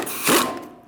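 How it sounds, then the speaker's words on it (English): A ratchet wrench with a 19mm socket snugs wheel lug nuts on a 2000-2007 Ford Taurus, giving one brief, close, clicking burst of ratcheting. "you're going to tighten them in a star-like pattern using a 19mm socket"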